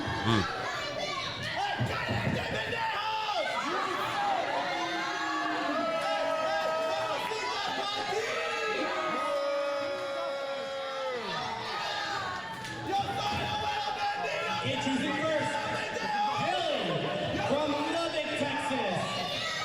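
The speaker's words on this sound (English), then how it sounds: "The biggest thing that's popping out to me tonight here at the Gaines County Civic Building in Seminole, Texas, is that crowd." Crowd at a BCW Texas wrestling event inside the Gaines County Civic Building in Seminole, Texas, a steady indoor murmur of chatter, children's voices and shouts filling the hall without a break.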